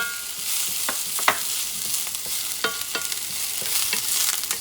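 Onions sautéing quickly in a pan over medium-high heat for Puerto Rican-style arroz con carne molida, a continuous bright sizzle broken by several sharp spatula clicks and stirring scrapes.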